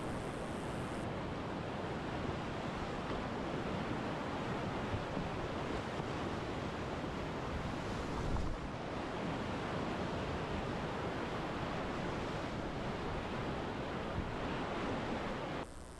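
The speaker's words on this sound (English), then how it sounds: "So another kind of new exciting rapid." Rapids on the Middle Fork of the Salmon River roar as a steady, dense rush of whitewater, loud and continuous throughout with no voices.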